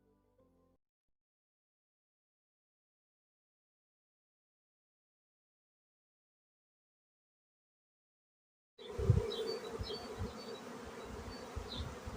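Honey bees at an opened hive, a dense, continuous buzzing swarm that starts abruptly after a long silence and stays loud and close, with individual bees droning past.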